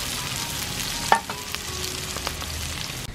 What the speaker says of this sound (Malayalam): പിന്നെ കുറച്ച് പച്ചമുളക്, ഒരു രണ്ട് മിനിറ്റ് ഇളക്കുക